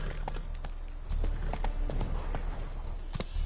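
The horse Roach gallops in a video game, a steady rapid clip-clop of hooves running continuously at close range.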